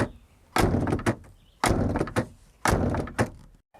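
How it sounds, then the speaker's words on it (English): A Subaru Baja door shut three times with the window down, each a loud close thunk with a rattling, hollow tail, spaced about a second apart. "it has one of the most unique sounds when you close the door and the window's down."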